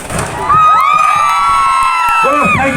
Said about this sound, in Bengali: তাই তোমাদের জন্য একটা জোরে হাততালি হয়ে যাক।